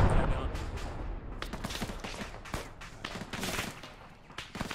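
Gunfire in the military video game ArmA III crackles in dense, irregular volleys, with sharp shots at varying distances and a heavy thump near the start, under busy battlefield noise.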